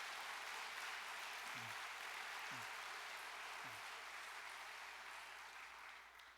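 Steady, dense audience applause in a church service hall, sustained and fairly distant, tapering off at the end, with a few low thumps and no talking.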